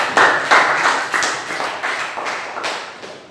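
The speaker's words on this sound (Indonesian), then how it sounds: "Tepuk tangan untuk anak-anak semua." A class of students gives a round of applause, with steady close hand claps falling into a loose, regular beat, heard alone with no talk over it.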